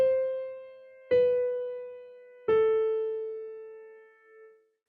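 Three descending piano notes played for a classical piano exam aural test, each struck singly about a second apart and left to ring, clear and alone.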